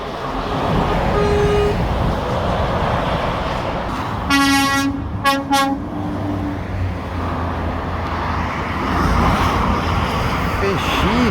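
A Volvo lorry horn blasts twice, loud and close, over roadside traffic noise at M20 Junction 4, with a person talking around the blasts.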